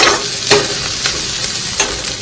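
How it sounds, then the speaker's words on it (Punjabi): Loud sizzling of garlic and cumin frying in hot oil for a tempering, with a few sharp bursts of spitting as it is stirred. "ਤੇ ਹੁਣ ਆਪਾਂ ਲਗਾਵਾਂਗੇ ਤੜਕਾ"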